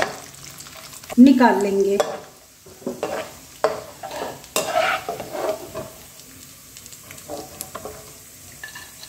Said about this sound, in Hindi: और ये चिरौंजी भी डाल देंगे इसमें। इनको भी कुछ ही देर फ्राई करेंगे